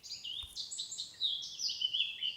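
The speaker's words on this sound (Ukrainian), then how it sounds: "Давайте послухаємо, як пташки співають." High, thin birdsong trills and chirps continue steadily against a quiet background, with one soft thump near the start.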